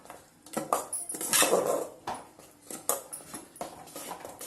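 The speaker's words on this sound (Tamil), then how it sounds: "துருவி வச்சிருந்த ஆப்பிள் போட்டு இது மாதிரி நல்லா கிண்டி விட்டுக்கிறோம்." A metal spoon scrapes and clatters against a pan in irregular strokes as grated apple is stirred into kesari, heard close, with no talking.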